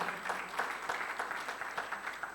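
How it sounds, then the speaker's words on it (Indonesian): Church congregation clapping during a Sunday service, a steady wash of many hands with rhythmic pulses swelling through, moderately loud and fairly close, with no voices over it. "Yang semangat beri tepuk tangan."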